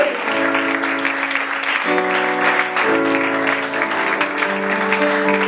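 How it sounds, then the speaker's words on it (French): A church congregation cheers and applauds loudly for the king at a French-language worship service, a dense, sustained roar of clapping and voices with musical tones underneath, steady throughout. "Est-ce que tu peux acclamer très très très fort pour le roi?"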